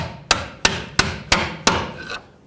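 A hammer drives a pry bar to seat a lower control arm bushing on a 2001-06 Toyota Camry, giving five sharp metallic strikes at an even pace, close and loud, each ringing briefly before fading.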